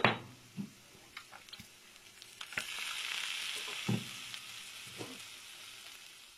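Fish frying in a pan hisses as a soft, fairly quiet sizzle. A few knocks and pops come at the start, and sparse clinks follow as the frying continues, with no voices.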